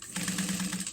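A sewing machine runs in a short, fast burst while stitching a bag, a close, steady mechanical whir lasting under a second.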